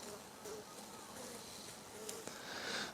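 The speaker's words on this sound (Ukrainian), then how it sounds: "бджоли тут. Давайте тоді на звук." Steady insect buzzing fills the clip, a dense hum of many honeybees close by in a hive, with a few sharp clicks and a brief louder swell near the end.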